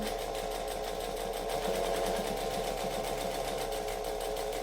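A sewing machine runs steadily at a moderate pace, topstitching fabric about an eighth of an inch from the edge of a curved seam on a heart-shaped eyeglasses case. The stitching is close and continuous throughout.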